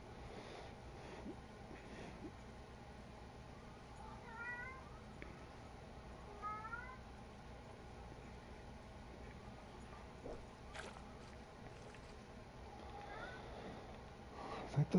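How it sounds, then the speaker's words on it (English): A cat gives a couple of short, faint meows spaced a few seconds apart over a steady low hum, with a few light clicks and knocks. "Milo, if you're going to sit over there and meow, come over here and get me a pickerel out of"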